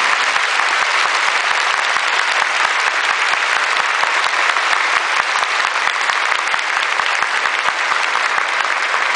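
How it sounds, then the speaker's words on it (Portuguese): A church congregation claps in a dense, steady ovation during a Mass homily for the feast of São Vicente de Paulo, loud and sustained throughout without pause. "se me ajudem a aplaudir pela beleza desse caminho bonito"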